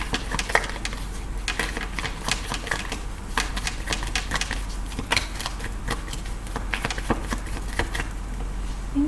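Tarot cards shuffled by hand, a continuous run of sharp clicking, flicking snaps at an uneven rapid pace over a steady low hum, close by.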